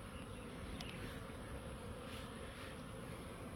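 Honeybees in a garden apiary beside neighbouring hives hum in a steady, dense drone, with a few louder individual buzzes passing close over the continuous swarm noise.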